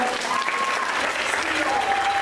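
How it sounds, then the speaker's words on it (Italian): Steady applause from an audience at a dance gala, honoring a long-standing dance couple; dense, continuous clapping fills the room at moderate loudness while a voice carries on over it. "quindi farei un grosso applauso"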